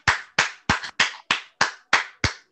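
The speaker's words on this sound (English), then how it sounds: "Am I the only one clapping?" Eight distinct, evenly spaced hand claps from a lone person in a small audience at a poetry reading, loud and sharp with clean gaps, no other voices.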